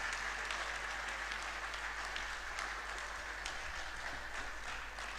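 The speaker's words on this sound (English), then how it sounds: "Keep clapping until he comes for his closing remarks" A large audience applauds steadily at a university convocation lecture, a dense, sustained wash of clapping at even loudness from start to finish.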